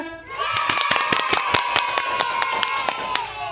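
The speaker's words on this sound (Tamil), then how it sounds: "கைத்தட்டுங்க" At a Children's Day program put on by teachers, an audience claps and cheers with sharp, rhythmic hand claps over shouting and a sustained high voice or whistle, close and lively.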